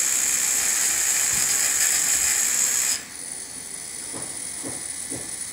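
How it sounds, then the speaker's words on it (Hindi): An electric motor rigged to drive fans runs at a steady, loud whirring pace with a bright high-pitched tone, then drops abruptly to a quieter hum with a few faint clicks. "तो मैं मोटर को चलाता हूँ इसके साथ।"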